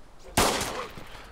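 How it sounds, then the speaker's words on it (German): A single loud gunshot in the video game DayZ, a sharp close crack followed by a short decaying tail, with no other shots after it. "Da ist ein Millimeter am Ohr vorbeigeflogen, der erste Schuss."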